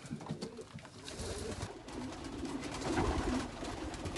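Pigeons coo at feeding time in a loft, their soft, throaty calls overlapping continuously at close range over a low background rustle.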